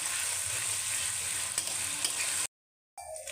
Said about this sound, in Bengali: এখানে আমি দিয়ে দিব জিরে, আদা, আর দিব রসুন। এটাকে একটু ভালো করে মিক্স করে নিব।